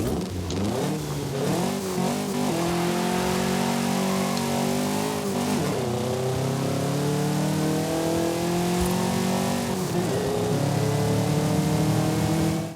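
Porsche 550A engine in Forza Horizon 5, revving loud and continuous, climbing through repeated gear changes with rising pitch sweeps, close and alone without talk.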